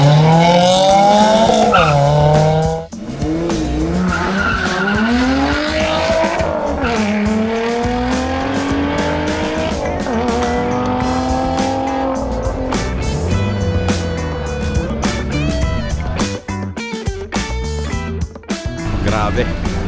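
Cars, vans and SUVs racing along a mountain road at Daang Kalikasan, engines revving loud and close with rising and falling pitch and tire squeal, while people talk over the steady roar.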